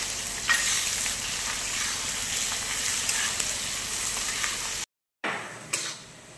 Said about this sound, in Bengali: এবার দিয়ে দিলাম কুচনো পেঁয়াজ। এবারে পেঁয়াজটা আমরা লাল হতে দেব